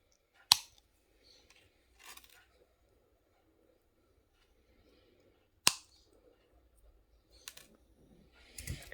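Wire cutters snip the ends of a wire-wrapped pendant, two sharp distinct clicks a few seconds apart with faint handling noise around them, close and quiet between cuts.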